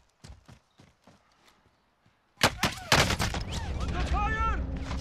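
Automatic gunfire in Call of Duty: Modern Warfare Warzone: a few faint scattered shots come first, then a loud burst of close rapid fire that builds into a sustained firefight, with speech mixed in.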